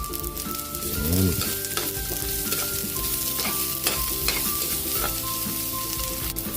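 Ginger and garlic sizzle in hot rendered chicken fat, a steady close frying crackle with stirring scrapes and clinks of a utensil against the pan, and no voices.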